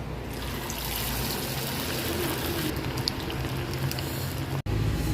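Ney pathal dough sits in well-heated oil and fries with a soft, continuous bubbling and crackle at moderate distance, steady throughout and broken only by one brief dropout near the end.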